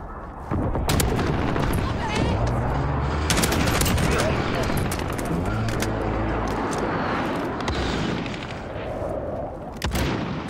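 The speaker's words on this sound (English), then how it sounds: "Enemy precision airstrike inbound." A precision airstrike in Call of Duty Modern Warfare: a loud, unbroken barrage of heavy gunfire and thudding blasts runs for about ten seconds, with faint in-game voices beneath.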